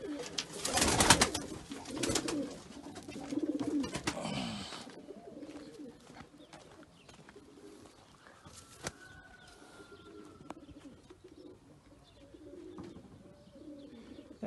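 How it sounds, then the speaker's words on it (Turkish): Pigeons kept as fancy tumbler birds cooing nearby, soft repeated low coos at a moderate distance, with a louder burst of bird noise and rustling at the start before the cooing settles into a quieter, steady background. "Yani kuşlar bunlar."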